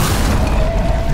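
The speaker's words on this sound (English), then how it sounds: "he's actually really handy to hit with the heat-seeking rockets. There we go. Let's just fire away." Heat-seeking rockets launch in the video game Bioshock during a final boss fight, a heavy, loud booming blast with a thick low rumble filling the short moment.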